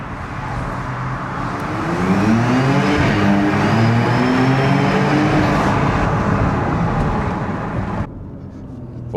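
A Porsche Cayenne GTS engine accelerating, a loud, steady rising roar held for several seconds before easing off abruptly near the end.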